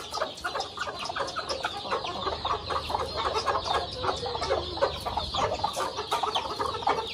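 A flock of desi (country) chickens clucks continuously nearby on a rooftop, with overlapping cackles and rooster-like calls over a steady outdoor background.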